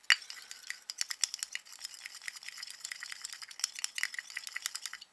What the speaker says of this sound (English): I'm just giving that a good wee mix in there.